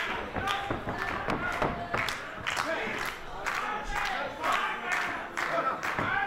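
In a tag team championship wrestling match, a wrestler is lifted by his brother and dropped onto an opponent, landing with heavy thuds in the ring amid a loud, continuous crowd roar and shouting.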